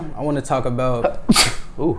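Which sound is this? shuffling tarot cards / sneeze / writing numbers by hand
sneeze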